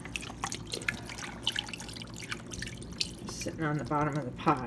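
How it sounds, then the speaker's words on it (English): Chicken broth poured into the bottom of an Instant Pot, a soft trickling splash heard under steady talking from a nearby voice. "I'm going to add the chicken broth to the bottom"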